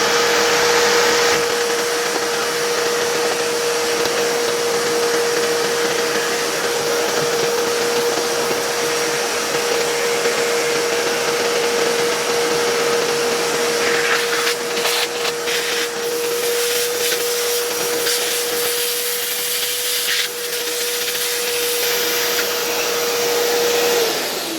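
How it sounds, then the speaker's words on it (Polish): A vacuum cleaner runs continuously up close while cleaning out an old 1963 WAMEL P01 fan heater and its small motor, a loud steady whine with some shifting rattles and suction changes midway. "przyniosłem już sobie tutaj odkurzacz i wyczyśćmy teraz ten silniczek"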